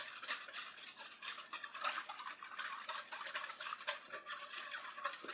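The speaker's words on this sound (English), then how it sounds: "Just keep whisking it around." A whisk swirls steadily through a sugar-and-liquid mixture while the sugar dissolves for a fried chicken sandwich, giving a continuous close scraping and swishing with small rhythmic pulses and no talk.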